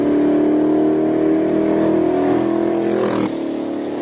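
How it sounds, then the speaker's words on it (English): A Ferrari 348 Challenge race car engine at a classic car event in Cape Town holds a loud, steady drone close by, its tone shifting briefly before settling at a slightly lower level. "Enzo with the Ferrari 348 Challenge."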